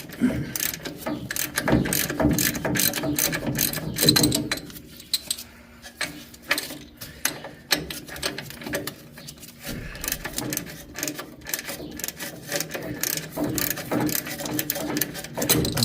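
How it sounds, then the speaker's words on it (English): Breaker bar ratcheting against a castle nut during a 1965 Chevelle four-wheel disc brake conversion, with a steady run of close metallic clicks and clanks that pause briefly midway and then resume. "But use your breaker bar. That will be the easiest way to do that."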